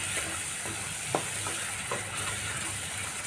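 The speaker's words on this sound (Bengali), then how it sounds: "শুকনো মশলাটা দিয়ে আর একটু সময় মশলাটা কষাতে হবে সুন্দর করে" Dry spice masala fries in a pan over a raised gas flame for a vegetarian squash dish, giving a constant close sizzle with occasional soft stirring scrapes and no voices.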